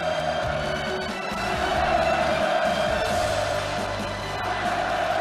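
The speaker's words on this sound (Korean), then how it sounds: "폭풍 같은 환호성이 터져 올랐습니다" A large crowd at a celebratory performance in a stadium roars with cheering, a dense, sustained wash of voices at an even, loud level for the whole span.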